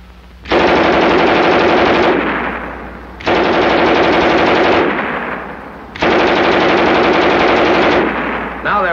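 German WWII MG 34 machine gun firing three long, loud, rapid bursts separated by short pauses, each a dense rattle of shots with a lingering echo as it stops.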